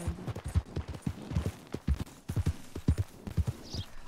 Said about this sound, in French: Il y avait des chevaux à côté.